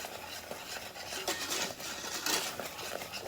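Spoon stirring ground cinnamon, nutmeg, cloves and a pinch of salt together in a bowl, with a steady close-up scraping and clinking that continues for a few seconds, no talking.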